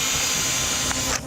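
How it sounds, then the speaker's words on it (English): A drill bores into a pressurised container standing in for a gas field, giving a brief, steady high-pitched whine that holds for about a second before cutting off. "I shall now commence drilling into my gas field."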